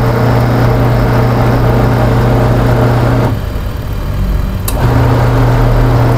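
A washing machine's wash motor hums loudly and steadily, turning one way, dipping briefly as it pauses, then resuming in the opposite direction.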